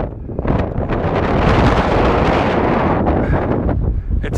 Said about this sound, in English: The wind is blowing a gale.